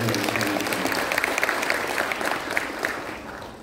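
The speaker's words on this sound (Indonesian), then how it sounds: "Coba tepuk tangan buat jaringan." A seated audience at a political gathering applauds warmly, many hands clapping in a loud, dense wave that holds steady and then eases off slightly toward the end, with murmured voices underneath.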